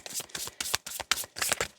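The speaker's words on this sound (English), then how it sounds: "Let's just give it one more shuffle." A deck of oracle cards gets shuffled by hand in quick, repeated riffling bursts, close and steady with no pauses.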